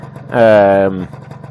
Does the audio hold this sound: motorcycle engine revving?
yes